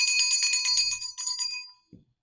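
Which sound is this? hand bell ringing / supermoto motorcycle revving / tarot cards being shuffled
hand bell ringing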